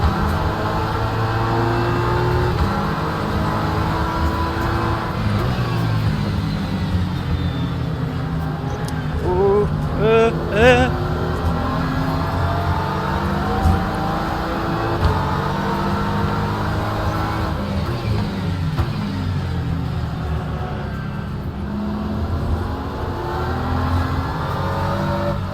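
A Porsche race car engine in a racing video game revs and accelerates off the start, a loud sustained roar with shifting pitch and other cars droning around it.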